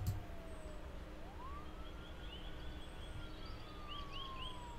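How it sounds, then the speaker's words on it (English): A police siren wails in a video game, its pitch sweeping up and holding as it draws nearer, sounding steady and fairly close over a low background rumble for several seconds. "I can hear a siren."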